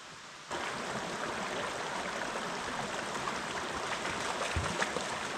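Rushing waterfall along Newlin Creek in Colorado, echoing off a nearby rock face: a steady broadband wash of falling water that starts abruptly and holds constant, fairly close and loud, with no talk.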